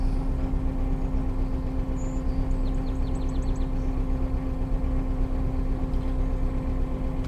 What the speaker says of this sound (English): The idle on this thing's weird.